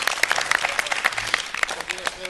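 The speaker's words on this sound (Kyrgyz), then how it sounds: "Кол чабуулар болсун" An audience applauds at a Kyrgyz comedy show, with brisk clapping and some cheering under a speaking voice, the claps forming sharp, uneven bursts.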